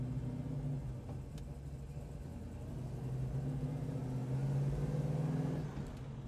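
A 1968 Chevelle SS restomod's V8 engine idles and revs, a steady deep rumble that swells and falls across the whole stretch, close and moderately loud with no talking.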